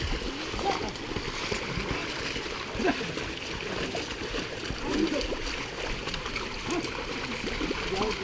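Oxen are driven through a flooded rice paddy during planting, making continuous splashing and sloshing of muddy water in a steady, churning pattern, with voices of people talking over it.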